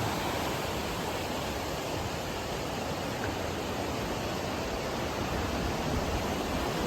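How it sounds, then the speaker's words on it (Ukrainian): River rapids flowing near a Japanese hot spring inn, a steady broadband rush of water that stays constant and fairly close, with no voices. "винен на водопад, просто на річку."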